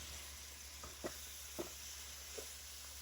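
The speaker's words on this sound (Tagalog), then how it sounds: "Lutuin lang natin yung beef ng ilang minuto guys" Ground beef for lasagna cooks in a pan, giving a faint, steady sizzle with a few soft pops and stirring clicks scattered across it.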